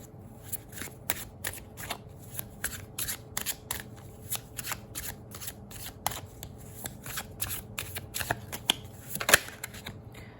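Tarot cards are shuffled close by in a steady run of quick crisp riffles and flicks, repeated snaps following one another for the whole stretch with no talking.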